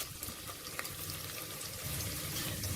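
Onion pieces and whole spices sizzle in hot oil over a medium flame for plain biryani, making a soft, steady crackle that swells slightly toward the end.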